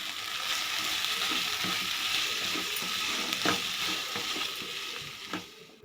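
Spice masala of chilli powder, garam masala and turmeric frying and being stirred in a pan for egg bread chilli, a steady hiss with scraping spatula clicks throughout, close and fairly loud, no voices.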